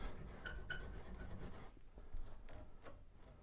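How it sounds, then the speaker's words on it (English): A steel burnisher rubs and scrapes along the curved edge of a spoon scraper in short, quiet rasping strokes, close and faint with no talking. "So that is how we use a burnisher to do those edges, to brighten them up."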